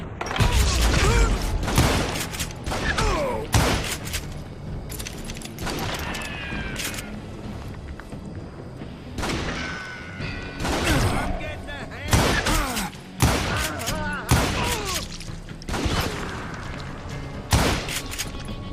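Gunfire in the video game Call of Juarez: Gunslinger, with sharp shots and impacts cracking rapidly amid a busy fight as characters shout over the action.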